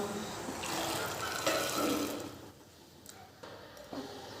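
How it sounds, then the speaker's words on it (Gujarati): Pigeon pea grains dropped into hot water in a cooking pot on a gas stove, a close splashy pour for about two seconds, then quieter ticks and small clinks. "તો આપણે નાખી દઈશું એમાં દાણા."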